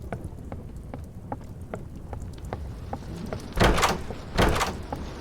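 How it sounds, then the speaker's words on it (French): A door in the horror video game Doors opens with two loud heavy thuds near the end, after a steady pattering of rain-like ticks, with no voices. "Là, on passe la porte 3."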